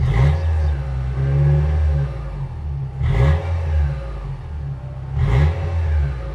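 A Lexus TX550 hybrid SUV engine revs repeatedly through dual exhaust tips, three throaty blips rising and falling over a deep, steady idle rumble, close by.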